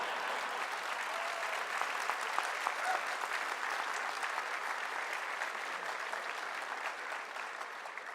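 Sustained applause from a graduation ceremony audience, an even wash of many hands clapping at steady loudness for about eight seconds, with no voices over it.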